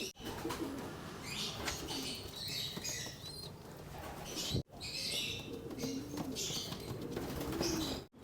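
Young pigeons of a breeder mix move about the landing board of a loft, giving soft coos, pattering feet and brief wing flutters at close range, fairly quiet, with a short break partway through.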